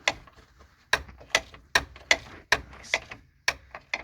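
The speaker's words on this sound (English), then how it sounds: "I'm gonna get a ratchet." Hand ratchet clicking on a sway bar bushing bolt under a 4th gen Dodge Grand Caravan, about a dozen sharp close clicks in uneven bursts, with no talk.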